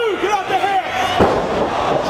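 A wrestler driven face first into the mat from the second rope with a knee in the back at an ROH match, a loud thudding slam amid a roaring arena crowd.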